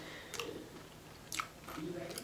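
Crunchy Cocoa Puffs cereal chewed close up in a few brief crunching bursts, with quiet pauses between bites.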